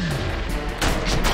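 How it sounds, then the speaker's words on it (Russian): Gunfire in the video game F.E.A.R.: Perseus Mandate, a few heavy shots with booming impacts, loud and close, the strongest blasts coming in the second half. "Я не вижу, откуда он стреляет."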